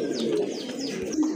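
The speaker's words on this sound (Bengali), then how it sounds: "এই যে বাহিরে এটা হচ্ছে আপনার নর কবুতর" A male pigeon at a pigeon seller's lofts coos in low, rolling calls, close and fairly steady, with faint higher chirps from other birds mixed in behind.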